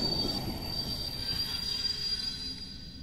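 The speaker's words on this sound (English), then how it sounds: "Train's here!" Train rolling into a station in the VR horror game Propagation, wheels squealing in a steady high metallic whine over a low rumble, close and loud, with no talking.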